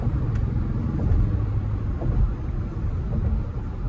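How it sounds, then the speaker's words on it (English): An MG ZS EV electric car is driven at speed, and a low, continuous road and tyre rumble fills the cabin with no voices. "Just listen to how beautiful this car sounds."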